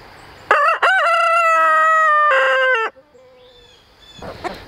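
A rooster crows loudly and close by on a homestead farm, one long drawn-out cock-a-doodle-doo with a brief break, followed by quieter clucking and rustling.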